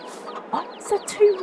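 Roosters cluck in a Farming Simulator 22 game, a few short scattered clucks and squawks spaced irregularly, fairly close and clear over a quiet background.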